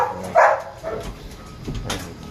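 A dog, apparently a Chow Chow, gives a few short barks and yips nearby over a brief stretch, with no talking.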